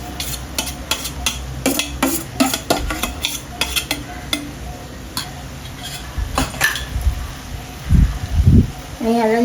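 Cooked jackfruit is stirred with roasted masala in a pan, a spoon scraping and clanking against the metal in quick irregular strokes over a low sizzle, with some voice murmurs near the end.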